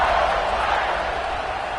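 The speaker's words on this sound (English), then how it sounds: "this crowd is buzzing after that last score" A football stadium crowd at a Notre Dame versus Ole Miss game keeps up a loud, steady buzz after a score, a dense wash of voices with no clear cheer peaks or single voices standing out.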